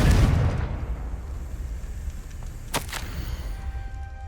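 A fiery Confringo spell bursts in Hogwarts Legacy with a loud, deep blast that decays into a rumbling tail. A sharper crack follows about two seconds later over a steady low background.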